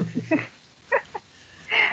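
A dog barks in short bursts, a couple of close yelps early and two sharper barks later, with a longer whining cry at the end.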